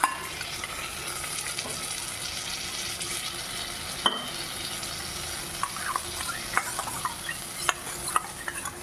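Cashew paste being stirred into a frying pan for matar paneer, a steady close sizzle of frying under scraping spatula strokes, with a sharp clink near four seconds and scattered light knocks of utensil on pan toward the end.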